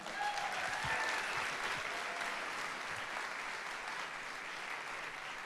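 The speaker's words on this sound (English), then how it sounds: "one more round of applause for Greg and the Emerging Prairie team" Audience applause at a 1 Million Cups community gathering in Fargo, a sustained, even wash of many hands clapping that sounds somewhat distant and soft throughout.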